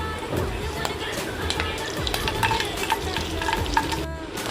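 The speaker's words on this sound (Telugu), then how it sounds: "ఇవన్నీ ద్వారగా వేపేంత వరకు వేపాలి" Dals, mustard seeds, cumin, curry leaves and cashews tempering in hot oil for ghee upma give a steady close sizzle with stirring scrapes, under faint background voices.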